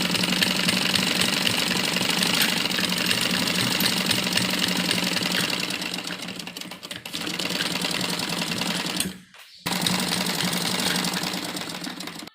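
Sewing machine stitching a hem strip on a child's Afghani salwar, a fast continuous mechanical whirr and rattle that runs close and steady, dipping briefly and stopping for a moment near the end before resuming.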